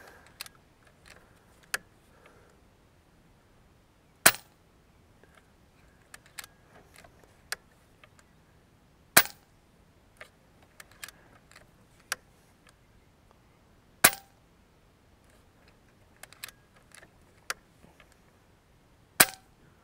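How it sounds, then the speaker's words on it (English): Air gun shots fired over a chronograph, heard as sharp, isolated cracks spaced seconds apart in a quiet room, with a few softer clicks and handling noises between them. "Okay, so we got 5 clean shots."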